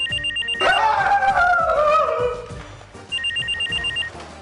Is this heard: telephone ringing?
yes